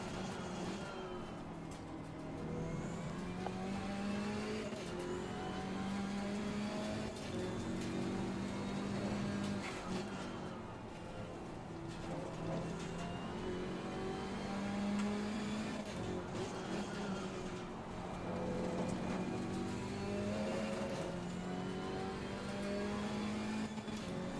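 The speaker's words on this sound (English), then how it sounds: "hitting the rev limiter again, because I'm used to the sound and the free revving nature of the Ferrari." A GT race car engine in the ACC racing game revs and shifts around Brands Hatch, rising and falling through the gears with repeated climbs toward the rev limiter, continuous and fairly close.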